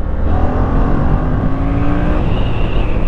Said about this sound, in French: La moto reprend extrêmement bien à bas régime